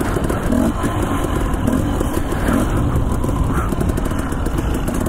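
A Husqvarna two-stroke enduro motorcycle ridden on trails near Emmett, Idaho, its engine droning loudly and steadily throughout with small swells in revs and no voices.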